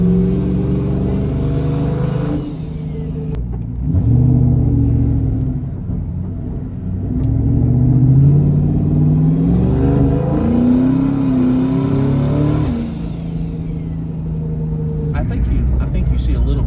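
A turbocharged car engine revs and accelerates hard in gear as boost comes in, a loud rumbling drone rising in pitch, easing off, then climbing again.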